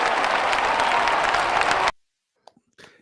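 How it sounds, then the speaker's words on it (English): Canned applause played as a sound effect on a sports talk show, a dense burst of clapping and crowd noise that cuts off abruptly, followed by faint brief speech. "Yeah, I can give him applause"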